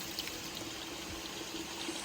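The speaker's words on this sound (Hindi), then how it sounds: "ये नेचुरल सोर्स है पानी का, यहाँ से पानी भर लेंगे।" Water flowing steadily from a natural spring as it is collected, a continuous close trickle and pour without pause and with no voices.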